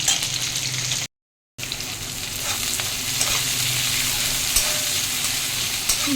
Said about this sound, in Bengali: প্রথমে পেঁয়াজ দিয়েছি তেলের করে, পেঁয়াজটা ভালো করে ভেজে নিয়ে আলু দেবো